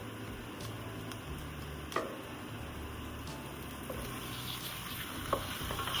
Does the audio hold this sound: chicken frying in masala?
yes